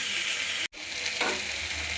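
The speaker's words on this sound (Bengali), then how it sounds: "টমেটোটা একটু ভেজে নেব সবজির সাথে।" A large tomato sizzles as it fries with mixed vegetables in a pan on a gas flame, a steady close hiss with a brief cut in the sound partway through.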